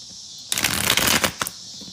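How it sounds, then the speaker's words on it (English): A tarot deck gets a single bridge shuffle: a crisp, loud riffle of cards fluttering for about a second, closed by a soft tap as the deck squares up, close and alone. "One more bridge shuffle."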